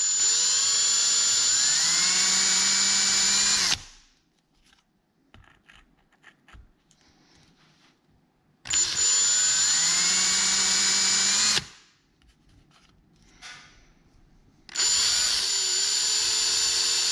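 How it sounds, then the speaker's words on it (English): A power drill whines loudly in two long bursts drilling a hole on a Harley-Davidson speedometer, each revving up and stopping abruptly, with quieter pauses of faint clicks between them. "I've just marked the spot where I'm going to drill it in"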